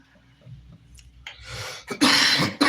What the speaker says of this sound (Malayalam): ചുമയൊക്കെ പിടിച്ചിട്ടോ